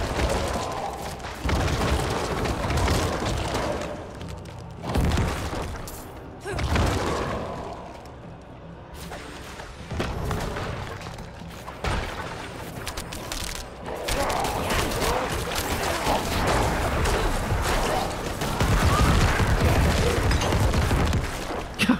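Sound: corpse explosion in video game Diablo 4

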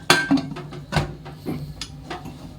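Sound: pressure cooker lid being put on

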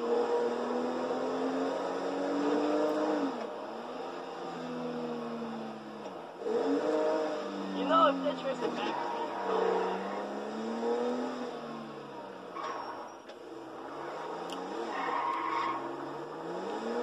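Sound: car driving and skidding in video game GTA 5

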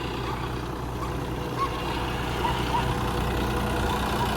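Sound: John Deere 5405 tractor engine running a rotavator

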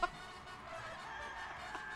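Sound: chicken clucking in video game Guacamelee 2

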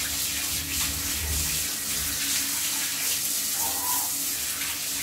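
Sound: water rinsing a squirrel during bath

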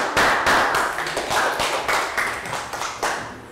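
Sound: class applause

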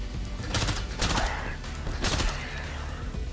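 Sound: burst-fire gunshots from upgraded gun in video game STRAFE

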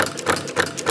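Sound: noble gas popper engine running

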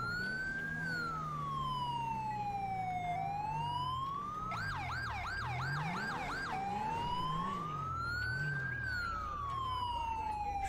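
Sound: police car siren in video game GTA 5

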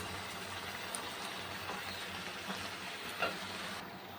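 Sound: fish head and cabbage frying in spiced oil

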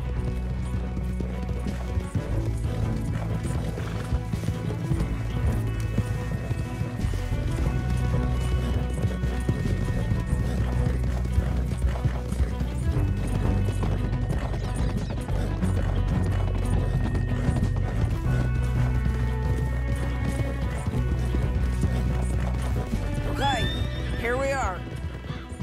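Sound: horses galloping in a video game

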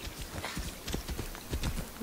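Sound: horse hooves clip-clop, video game

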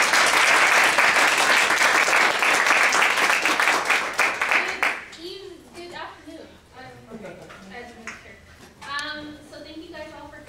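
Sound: audience applause welcoming poet Leija Farr

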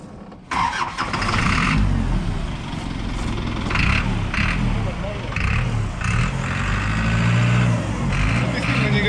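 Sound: Mazda Titan truck diesel engine running

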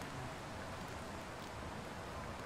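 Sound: heavy rain in the video game The Long Dark

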